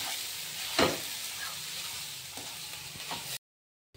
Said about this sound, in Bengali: এবার ভালোভাবে ভেজে নেব